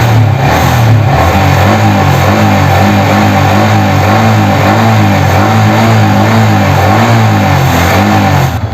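A Yamaha R15 V3 motorcycle engine with an overheating problem idles loudly and steadily nearby, its rhythmic putter unchanging until it dips slightly at the very end.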